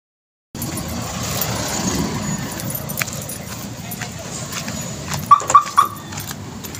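A dog barks three quick times, fairly close, near the end, over steady outdoor background noise and faint traffic.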